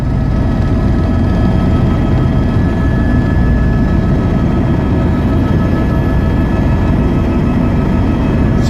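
Helicopter flying over the crowded Kumbh Mela gathering at Prayagraj, heard as a steady, loud low rumble of rotor and engine noise that continues unbroken and with no one talking.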